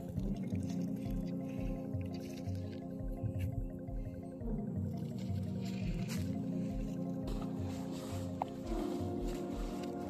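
Groundnut seeds are mixed with a powder and a sprinkle of water, giving continuous moist squishing and shuffling over a steady low mechanical hum.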